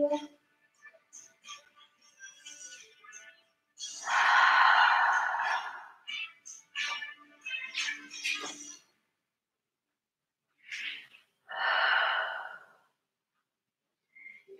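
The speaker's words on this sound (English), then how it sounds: "Big breaths, big exhales." Deep breathing during a yoga pose: two long, loud, airy exhales stand out, with shorter breaths and small sounds between them, close to the microphone.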